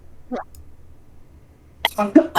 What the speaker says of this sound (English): Excuse me for the coughing too.